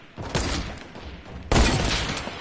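Rapid bursts of video game gunfire crackle close and loud, with a sharper, louder volley starting midway and continuing to the end; no voices.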